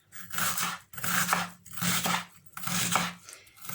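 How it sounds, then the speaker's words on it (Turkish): Knife cutting a medium onion, carrot and potato for red bean pilaki, rhythmic strokes in four bursts with short pauses between, close and moderately quiet, no talk. "Bismillahirrahmanirrahim diyerek doğramaya başlıyorum"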